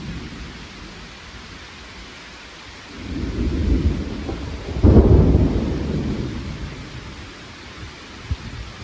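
Thunder rumbles in two deep, swelling rolls over steady heavy rain during a thunderstorm above a garden, the second clap louder and closer before fading back into the downpour.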